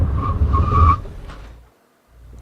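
A 2013 Audi S8 brakes hard from 60 mph to a full stop, a loud rush of tire and road noise with a rising squeal. It fades abruptly into near silence, then faint ambient noise returns.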